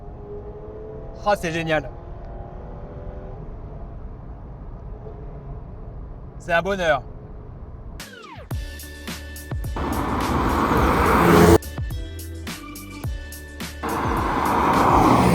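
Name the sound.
BMW Alpina E21 C1 2.3-litre engine running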